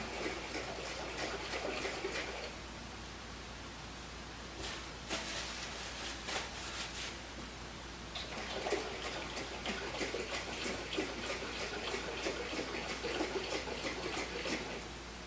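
Peach honey must sloshes inside a cheap glass wine jug as it is shaken, giving repeated bursts of splashing liquid with short pauses between rounds, close and fairly steady in loudness.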